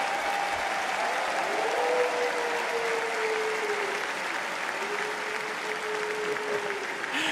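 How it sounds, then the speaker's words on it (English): Audience applause at The International Dota 2 tournament, a large arena crowd clapping in a sustained, even roar with a faint tonal sound gliding underneath. "let's have a round of applause for all of the teams that have shown up here to the International 14"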